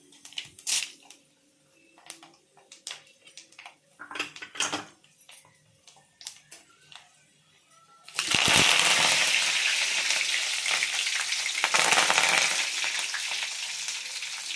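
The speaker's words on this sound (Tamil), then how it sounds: "கடுகு, உளுந்து, ஜீரகம் எல்லாம் போட்டு தாளிச்சிக்க வேண்டியதான்" Mustard seeds, urad dal, chana dal and cumin hit hot oil for a tamarind kuzhambu tempering, bursting into a loud, dense sizzle after several seconds of quiet clinks and taps of the pan and ladle, close by with no voice.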